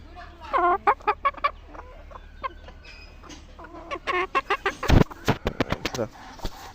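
A chicken clucks for food in short bursts, with rapid clucks and squawks coming close and loud, growing busier toward the end.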